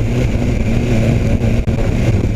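A BMW S1000 R naked motorcycle accelerating hard with a quickshifter, its loud, close engine droning steadily with a brief dip during a quick gear change.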